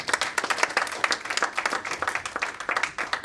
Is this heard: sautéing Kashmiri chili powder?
no